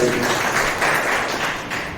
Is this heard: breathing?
no